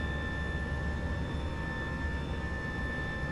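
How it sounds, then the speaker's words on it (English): Steady drone of a Tupolev Tu-154 airliner from a new sound pack in the X-Plane 12 flight simulator, a continuous engine hum with high whine tones, alone with no talk. "Oh, the new sound pack for this plane is awesome."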